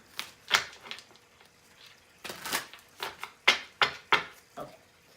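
Cards are riffled and shuffled in several quick bursts of crisp flapping, close by, with short pauses between.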